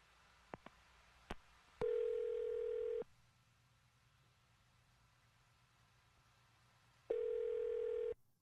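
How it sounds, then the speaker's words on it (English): A telephone dial tone sounds while a phone number is being called: a few faint clicks, then two steady tones of about a second each separated by a long quiet gap, clear and alone. "I'm going to dial his phone number."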